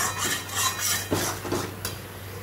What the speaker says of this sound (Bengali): তো ভালো করে কষাবে এটা, কিন্তু যত কষাবে তত টেস্ট হবে।